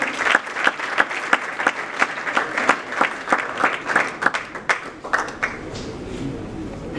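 Applause from an audience at a Congolese music awards ceremony, a lively crowd clapping with distinct sharp hand claps in rhythm that thin out and fade toward the end, leaving room noise.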